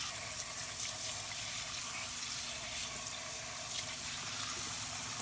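Asparagus is rinsed under a running kitchen faucet, giving a steady close hiss of flowing water with faint splashing throughout and no speech.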